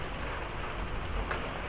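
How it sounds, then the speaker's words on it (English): Pea-sized hail and rain fall on the ground during a severe thunderstorm, a dense steady hiss of impacts with no talking. "Hail's falling on the ground right now."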